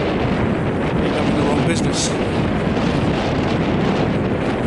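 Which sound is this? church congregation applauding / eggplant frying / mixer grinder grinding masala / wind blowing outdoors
wind blowing outdoors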